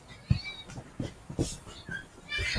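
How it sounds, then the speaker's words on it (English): A cat meows several times in short separate calls, close and fairly clear, over a quiet indoor background. "Don't let that cat out."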